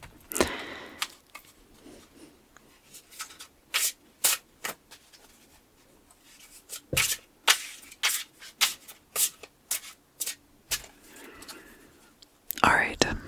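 Oversized tarot cards being shuffled in short riffling bursts, with soft rustles between and a breathy, whispery voice-like texture at times; close and fairly quiet.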